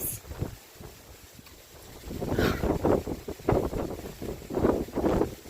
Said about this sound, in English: and there's wind gusts.